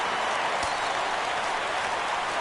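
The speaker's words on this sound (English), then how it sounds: "Crowd gets up for the 3-2." Stadium crowd in a PS4 baseball video game rising on a 3-2 count, a dense, even roar of cheering that holds steady and loud throughout without any break.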